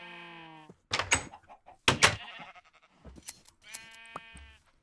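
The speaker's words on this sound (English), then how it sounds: "The sheep are still here." Sheep in the Minecraft video game bleat in clear, nasal cries, one at the start and another near the end, with sharp clattering block or door sounds in between.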